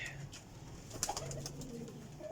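Pigeons in a loft of flying pigeons give low, soft coos, close and steady for a couple of seconds with a brief sharper note midway.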